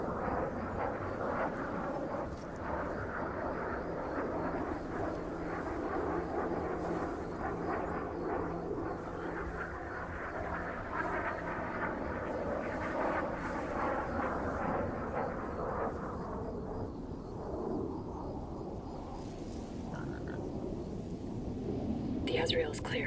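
An Azrael drone flies overhead in the shooter Ghost Recon Breakpoint, a steady broad engine drone and rushing roar that holds for over twenty seconds and fades slightly toward the end, with low voices murmuring underneath.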